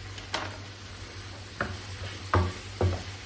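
Peppers sautéing in a pan, a soft background sizzle broken by four sharp stirring knocks and scrapes of a utensil against the pan, the clatters spaced irregularly and fairly close.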